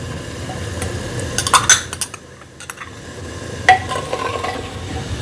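Mutton frying over high heat in a pot, hissing with a steady sizzle while a utensil stirs and scrapes, with a few sharp metallic clinks near the middle and end.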